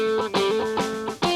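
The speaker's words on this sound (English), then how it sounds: "This guy is going to play the guitar first" Guitar playing a short ringtone-style phrase for a Mother's Day tune, with bright sustained notes and a few strummed attacks through an effects unit, close and clear with no talking.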